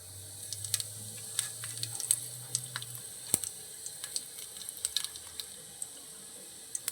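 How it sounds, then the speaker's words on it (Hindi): Cumin seeds sizzling in hot oil while cooking a bell pepper fry, a faint, steady crackle with scattered sharp pops and a soft low hum early on. "अब ये ऑयल गर्म हो जाए तो हम उसमें डाल देंगे ज़ीरा"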